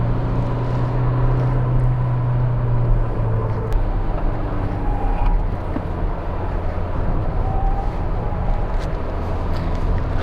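A 2019 Ford Figo drives through the Kasara Ghat mountain road, its engine and tire noise a loud, steady drone with no breaks and no talk.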